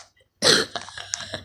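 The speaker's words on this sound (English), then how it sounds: "Ignore my cough." A single sharp cough bursts out close by, followed by a brief throaty rasp.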